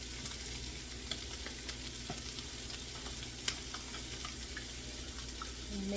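Broccoli and steak sizzling in a hot pan for a stir fry, a steady dense crackling hiss close up with small pops and no talking.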